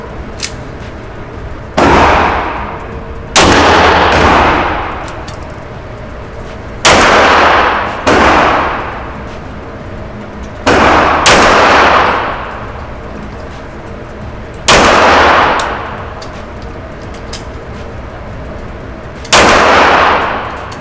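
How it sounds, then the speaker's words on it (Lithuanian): Gunshots at a shooting range, target distance around 10 to 30 metres: six loud, sharp reports spaced every few seconds, each with a long decaying echo, no talking. "Šaudom 30 jardų, tai yra 30 metrų."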